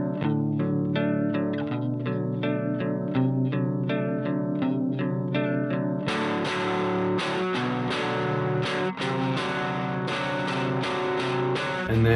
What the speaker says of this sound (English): in the pre-chorus, I like to harmonize 2 guitars together.